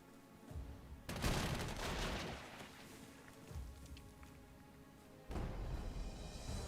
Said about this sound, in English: Anti-aircraft shooting at the 110 there.